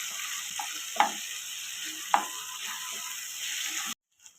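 Tomatoes cook in a pan for egg curry, giving a steady close sizzle with two sharp knocks partway through before it cuts off suddenly near the end.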